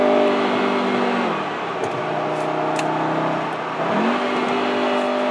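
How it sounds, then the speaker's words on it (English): Engine of a VW Beetle R-Line convertible revving on a road drive, a steady loud drone that dips, then climbs again near the end as revs rise, with faint road and wind noise and no talking. "Listen to that engine tone."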